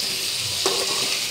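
Shredded cabbage with onion sizzles in a hot pan, with a steady hiss and one quick scrape of stirring.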